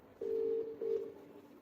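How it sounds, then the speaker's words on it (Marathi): A phone call's ringing tone plays as a clear electronic hum, one long pulse followed by a shorter one, with a quiet background. "आता पुन्हा एकदा कॉल करते आणि बघते."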